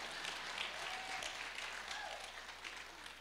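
A church congregation claps along in steady, dense applause filling the room at moderate volume, the clapping continuing evenly without any talk over it.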